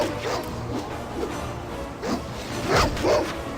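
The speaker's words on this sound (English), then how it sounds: "Let's go and kill the wild dogs." Wild dogs barking in the video game Baldur's Gate, a few scattered yaps and barks over a steady game soundscape, moderately loud with short gaps between them.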